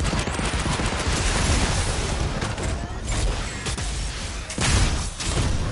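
Rockets fire in a video game as a dense, continuous barrage of booms and crackling blasts, loud and close, with a sharp surge near the end.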